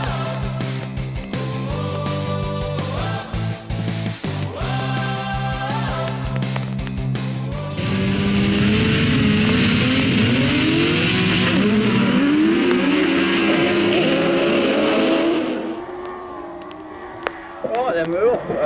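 Autograss race cars of mixed classes 8 and 9 at Cambridge, engines revving hard off the line then a dense roaring pack sweeping past before fading, with a commentator talking over it.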